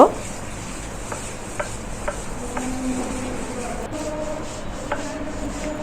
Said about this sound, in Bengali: আমার ছোট বোন ভর্তাগুলো বেটে নিচ্ছিল